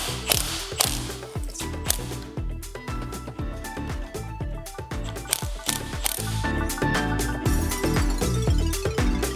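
A ratchet wrench tightens a bolt onto a Subaru STI shock body, rapid clicking pawl strokes repeating in quick bursts, close and crisp, with brief pauses between pulls.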